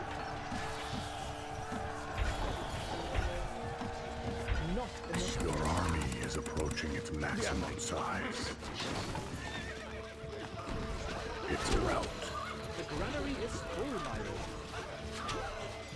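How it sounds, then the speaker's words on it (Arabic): A horse whinnies amid galloping hooves and busy sound effects in the game Stronghold: Crusader, with a clashing, layered mix running continuously throughout. "الفرس تعدو"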